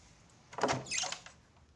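A door opening in a quiet home, a short scraping slide with a soft thunk, alone and at moderate distance.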